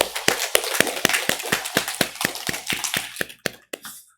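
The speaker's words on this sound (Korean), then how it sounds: "우리 하나님께 감사와 영광의 박수 올려드리겠습니다" A church congregation applauding together at a Sunday worship service, a steady burst of loud, even clapping that tapers off after about four seconds.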